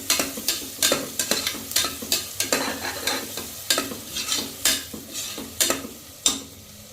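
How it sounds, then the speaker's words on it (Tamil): Mutton biryani base sautéing in a pan until browned, with a steady sizzle and quick, repeated scraping strokes of a spoon stirring at close range, rhythmic and fairly loud, without talk. "நல்லா வதங்கணும், நல்லா ப்ரௌனிஷ் ஆகும்."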